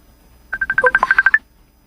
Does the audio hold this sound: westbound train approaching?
no